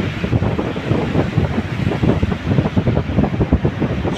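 Large ocean waves crash and surge continuously onto a remote beach in Samar at high tide, with a loud, steady roar of surf mixed with gusty wind buffeting the microphone.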